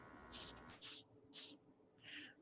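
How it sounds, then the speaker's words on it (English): Short bursts of aerosol spray hiss inside a running spray booth applying flat clear coat: three loud blasts in quick succession, then a softer, shorter spray, with a low background hum and no voices. "Spray booth's doing its job."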